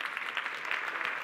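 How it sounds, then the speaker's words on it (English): A brief burst of steady clapping from a school event audience, dense and even, with no talk over it. "And give him a round of applause,"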